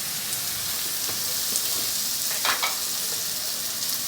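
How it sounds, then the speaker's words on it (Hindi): Okra sizzles and fries with garam masala in a pan, a steady close crackle with occasional stirring scrapes and no voices. "अच्छे से मसाले को हम फ्राई करेंगे और साथ साथ हमारी भिंडी यहाँ फ्राई हो रही है।"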